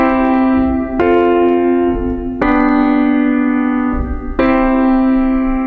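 Three sustained chords of a I-IV-V progression, each struck with a bright attack and held about a second and a half, loud and close with a bright electronic tone and no voices.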